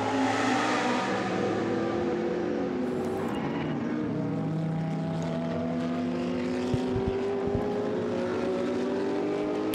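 GT race cars, among them a red Ferrari in BMS Scuderia Italia colours, racing at Barcelona in a Blancpain GT Sports Club qualifying race; a steady roar of several engines with rising and falling pitch, continuous and fairly loud.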